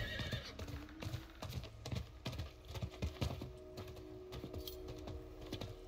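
Irregular clip-clop of a horse's hooves on hard ground in the video game Diablo IV, fairly quiet, with a faint steady tone and soft clicks in the background.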